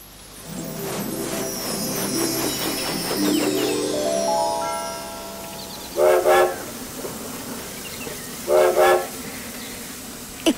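A cartoonish train sound effect in a children's programme: a rising whistle-like horn tone swells and slides over a rumbling background, then two short, bright toots of the horn sound clearly near the end.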